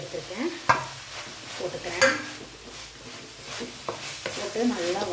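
Long beans stir-frying with grated coconut for a poriyal, with a spatula scraping and clinking in the pan over a low sizzle in irregular strokes, close and moderately loud.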